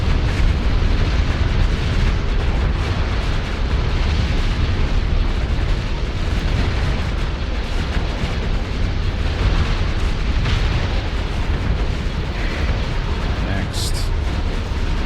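Torpedo explosions in a Starsector space combat, a sustained loud rumble of overlapping blasts and bursts lasting throughout, with a brief higher-pitched tone near the end.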